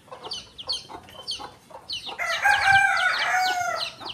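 Desi chickens and chicks on a poultry farm clucking and squawking while being caught for eye-drop vaccination, repeated close calls that grow into a louder, agitated burst of overlapping clucks.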